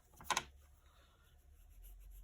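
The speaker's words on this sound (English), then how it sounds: "So I'm going to make a mark" A short scratchy stroke as fabric covering is marked for a buttonhole, one brief close burst followed by quiet room tone.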